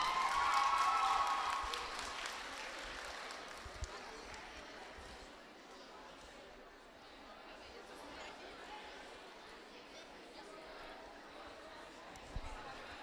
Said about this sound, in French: On applaudit notre podium juvénile féminin, 4 km.